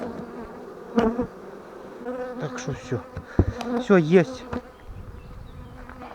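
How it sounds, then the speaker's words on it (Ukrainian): Honey bees buzz around a hive as a beekeeper joins queenless colonies with swarms, their hum weaving close around a man's brief spoken remarks. "Отак бджолки зараз літаються."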